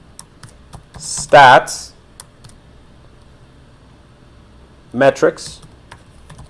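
Keystrokes on a computer keyboard while Python code is typed, coming in short clicky bursts between stretches of spoken explanation.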